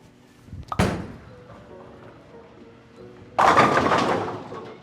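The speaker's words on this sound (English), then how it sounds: "Just throwing a shot up the lane nice and slow to try to figure out where the friction is." Bowling ball thrown slowly up the lane during pre-league practice: a sharp thud as it lands, a low rolling rumble, then a loud crash of pins clattering a few seconds later, close and without talk.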